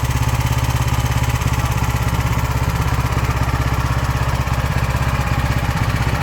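A small multipurpose gasoline engine, just started with the choke pushed back, runs at a steady, rapid chugging idle, loud and close, with a constant mechanical clatter throughout.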